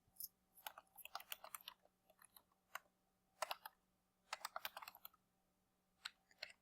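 Fingers type on a computer keyboard while filling in a new-hire form, producing close, crisp clicking keystrokes in irregular bursts separated by short pauses, alone in a quiet room.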